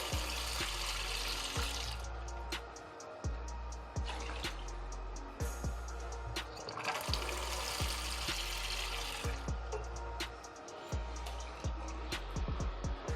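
Running tap water splashes continuously into a sink as yam pieces are washed for pepper soup, with frequent clicks and knocks of the pieces and hands moving under the stream.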